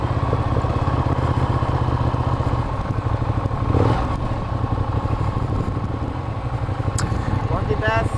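Ducati Diavel motorcycle rides slowly over rough off-road ground, its engine a steady close rumble with rattling and clatter, while someone speaks over it.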